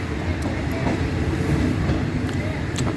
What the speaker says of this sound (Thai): รถไฟจากกรุงเทพนะครับ ไปสถานีอุบล